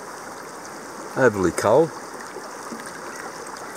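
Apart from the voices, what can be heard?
creek water flowing while gold panning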